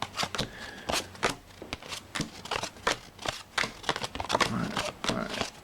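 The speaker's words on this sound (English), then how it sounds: "shuffle the cards, deal 8 to each player" Playing cards are handled up close, a series of crisp papery snaps and flicks in an uneven rhythm, with no one talking.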